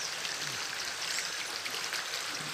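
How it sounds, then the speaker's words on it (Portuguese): Water flows and splashes continuously near a waterfall inside a rocky grotto, a steady, fairly faint broadband rush like rain on a surface, with no voices over it. "Olha só o barulho d'água aí."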